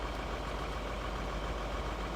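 A tractor engine idles in Farming Simulator 2013, giving a steady low rumble that runs continuously and evenly throughout without any talk over it.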